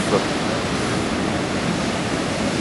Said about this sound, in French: Donc il y a des vagues, la marée est bien montée